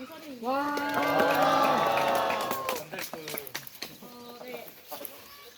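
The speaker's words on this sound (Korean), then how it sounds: "개관 발표자에게 힘찬 박수와 함성을 보내준다." University history students on a field trip cheer with rising, drawn-out shouts and scattered clapping for a presenter, the whoops fading into a few sharper claps and voices toward the end.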